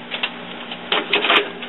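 An HP Deskjet printer's carriage shuttles back and forth after a reset, giving a steady mechanical whir punctuated by small clicks and knocks, close and moderately loud.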